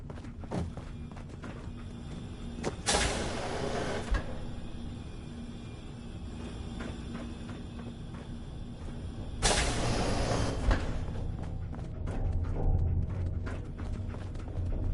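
A malfunctioning door in the video game Fallout 4 is forced open with a steady mechanical grinding hum, two loud bursts of hissing and clattering, and scattered thuds and clanks across fifteen seconds.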